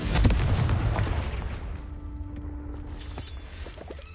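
A Confringo blasting curse goes off in Hogwarts Legacy: a loud, booming explosion bursts at the start and then rumbles and fades into a low, decaying roar with faint debris crackles.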